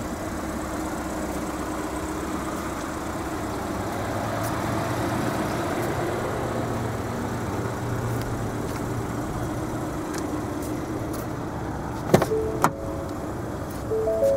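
The power window motor of a 2014 Ford Fusion SE hums steadily inside the car for a long stretch, ending with a couple of sharp clunks as the glass stops.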